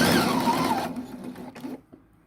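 A sewing machine runs steadily while stitching the fold of bias tape nearest the fabric edge, then slows and stops, close and loud with a whining motor tone.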